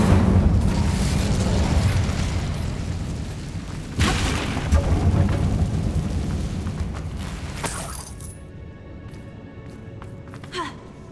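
Incendio fire spell bursting in the Hogwarts Legacy video game inside a closed mine, heard as a loud whooshing blast with a second surge of fiery roar before it fades into quieter crackling and rustles.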